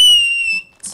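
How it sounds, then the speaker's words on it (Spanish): A shrill, steady whistle made by blowing through a plastic bag holds one high tone for about half a second, then breaks into a short breathy rustle. "Yo sé silbar, pero con bolsas."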